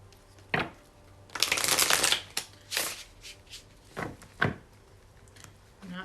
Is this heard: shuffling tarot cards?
yes